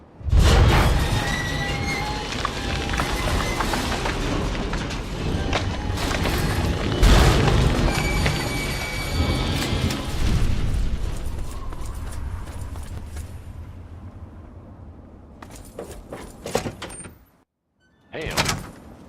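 A massive door of the Citadel in the Fallout 3 video game rumbling and grinding open, a long heavy mechanical drone with a deep boom near the start, then a brief silence and a final clank.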